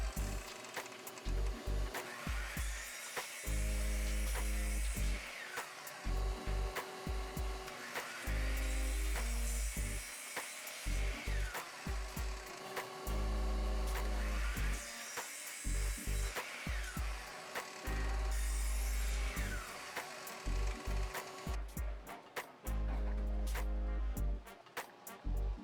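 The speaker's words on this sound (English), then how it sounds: "we head over to the miter saw and cut everything to its final length" A miter saw cuts wood pieces to final length with scrap wood backing the fence, giving repeated loud whining cuts separated by short pauses, with a rapid burst of sharp cuts near the end.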